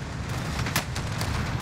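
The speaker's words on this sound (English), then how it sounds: "Oh, those tanks are shooting us" Tank shells exploding in the Call of Duty Vanguard video game, a dense rumbling barrage with a sharp blast near the middle and more hits after, with no talk.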